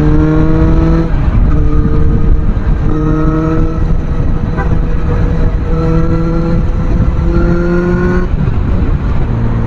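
A Suzuki Bandit 650 motorcycle (656cc) being ridden, its engine droning loudly and steadily while the pitch climbs and drops through repeated gear changes over heavy wind rumble.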